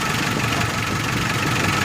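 A 4D56 diesel engine idles steadily at close range, its dense knocking rumble holding an even, continuous rhythm throughout.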